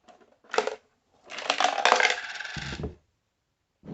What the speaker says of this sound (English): try this and see how this works with depositing a little change